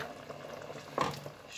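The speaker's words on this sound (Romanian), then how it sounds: "lăsăm la fiert încă 15-20 de minute pentru a fierbe și cartofii" Pork goulash with potatoes simmering in a pot: a soft, steady bubbling, quiet and close, with one brief louder burst of bubbles or a stir partway through.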